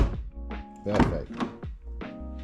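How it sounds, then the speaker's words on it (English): Several dull thunks sound in quick succession as a Mazda MX-5 door shuts firmly, each one short and close. "Let's just see if the door actually closes without thudding."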